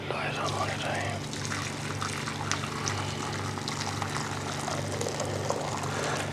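Chicken stock poured through a strainer into a pan makes a continuous soft trickle and splash, heard close and steady with a voice talking over it.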